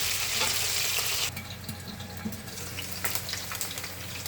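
Bihon rice noodles sizzle and fry steadily in a hot pan at close range, a loud dense hiss that drops somewhat after the first second and continues with faint clinks and crackles.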